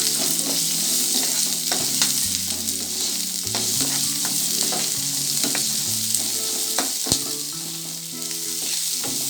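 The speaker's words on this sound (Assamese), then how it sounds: "তেলখিনি গৰম হোৱাত মই অলপ পিঁয়াজ আৰু 3টামান তেজপাত দি দিছোঁ" Sliced onion and a few bay leaves sizzle steadily in hot oil in a pan for a chicken curry, a loud continuous hiss broken by occasional clicks of stirring.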